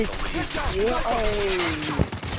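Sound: gunfire in the video game Call of Duty Mobile

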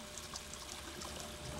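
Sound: running water trickling

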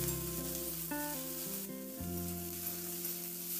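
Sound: cauliflower and potato frying while being stirred

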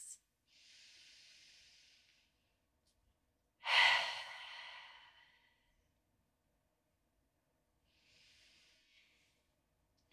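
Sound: deep belly breathing during yoga

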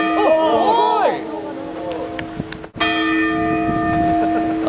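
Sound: temple bell ringing

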